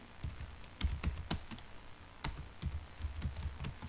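Someone types in MS Word on a computer keyboard, tapping out a quick, uneven run of keystrokes close by, with a couple of sharper, louder key hits. Nobody talks.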